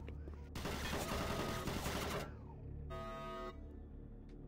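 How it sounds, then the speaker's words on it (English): Automated turret guns in Doom 3 let off a loud, sustained burst of rapid fire for about two seconds, followed by quieter tonal game ambience. "Warning, automated turret guns online."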